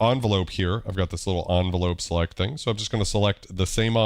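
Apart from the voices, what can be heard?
No everyday noise stands out behind the speech.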